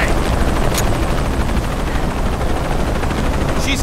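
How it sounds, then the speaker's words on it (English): In the Shadow of the Tomb Raider video game, a helicopter makes a loud, continuous rotor roar with rapid rhythmic chopping, close and dominant throughout, with a couple of short sharp sounds that could be gunfire. "Always hated helicopters."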